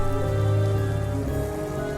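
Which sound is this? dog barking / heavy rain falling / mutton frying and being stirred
heavy rain falling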